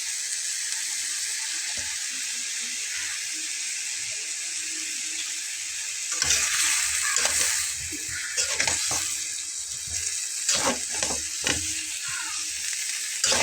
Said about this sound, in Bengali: এটাকে আমি এরকম দশ পনেরো মিনিট খুব ভালোভাবে ভাজা ভাজা করে কষিয়ে নেব